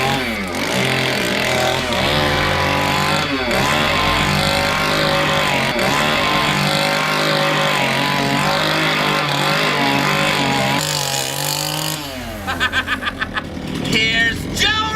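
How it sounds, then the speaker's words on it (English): A chainsaw engine idles loudly and steadily, with a rough buzzing drone that revs up in short bursts near the end. "I'll keep the saw idling"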